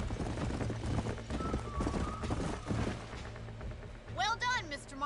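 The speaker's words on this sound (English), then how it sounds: "These are fine horses." Horses in the Red Dead Redemption video game clip-clop at a trot in a steady rhythm, with a brief high whinny near the end.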